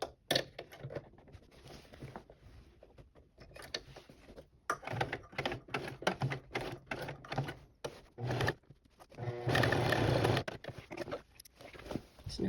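Sewing machine stitching a small patch back onto fabric, running in short bursts of rapid mechanical stitching broken by pauses, close and fairly quiet, with a longer steady run near the end.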